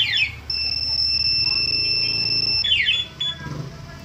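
A motorcycle anti-theft alarm on a Rusi RFi175 sounds in rapid chirping bursts, a steady high-pitched tone holding between them, over a low engine-like rumble with brief voices.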